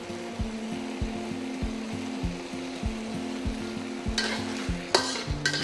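Tomato sauce for a family-style tomato egg dish sizzles steadily in a pan as a starch slurry goes in, with a couple of brief, sharper bursts of frying noise near the end.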